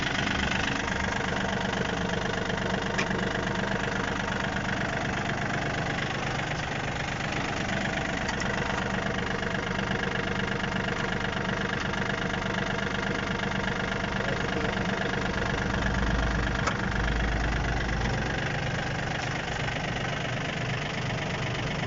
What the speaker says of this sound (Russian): Фреза работает тихо.